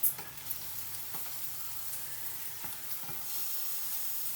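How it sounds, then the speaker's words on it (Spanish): Thinly sliced garlic fries in an oiled pan that was just used for spinach, giving a steady soft sizzle with light scrapes as it is stirred constantly, and no voices over it. "pica los ajos en láminas más o menos finas y deja que se doren ligeramente, solo un poco, y removiendo constantemente"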